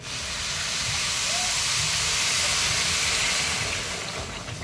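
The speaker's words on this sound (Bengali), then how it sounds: "আমি এখন এই জল ঢেলে দিলাম" Water poured into a hot cooking pot sets off a loud, continuous hiss of steam and boiling. The sound is close and steady, swelling and then easing slightly, with no talking.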